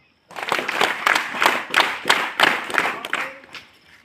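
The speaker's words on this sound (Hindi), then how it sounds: "और बस तालियां।" Students clapping in a school classroom, a burst of hand claps in rough rhythmic pulses that grows uneven and fades out near the end.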